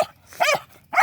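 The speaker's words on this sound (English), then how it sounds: "Look at the cute little doggy." A small dog outdoors barks in short bursts, two close, fairly loud woofs with a third starting at the very end, and no one speaks.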